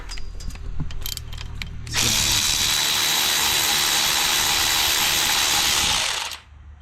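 Power tool loosening bolts during a big turbo installation, likely an impact driver or ratchet: a loud, steady whirring burst of about four seconds, with some faint clicking before it starts.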